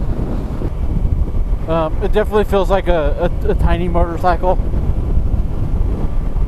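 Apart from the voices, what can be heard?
wind while riding a Yamaha R3 motorcycle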